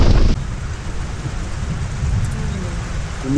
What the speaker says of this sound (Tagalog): Umuhupa na ang ulan. Pero pala yung kidlat.